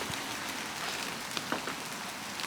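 Heavy rain pours steadily on an abandoned building, a dense hiss of drops drumming on surfaces, with a few louder splats standing out.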